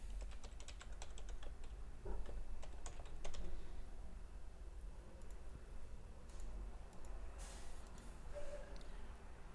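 Someone types on a computer keyboard, with rapid close key clicks clustered early and scattered taps later, over a steady low room hum.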